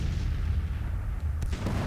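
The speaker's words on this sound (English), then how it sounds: "our own artillery line is now opening up on the rebels that are in pursuit" Artillery fire from 3-inch ordnance rifles on a Civil War battlefield, a continuous low rumbling roar of distant cannon with faint sharper reports near the end, no voices.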